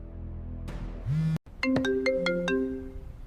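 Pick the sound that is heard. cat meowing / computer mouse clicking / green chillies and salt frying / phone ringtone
phone ringtone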